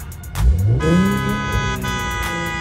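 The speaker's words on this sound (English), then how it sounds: "if I flick to neutral right now, I could get a little pop on the rev" A tuned 450 whp all-wheel-drive Infiniti Q50S revved in neutral, a loud close engine rise and fall with a sharp exhaust pop, heard alone.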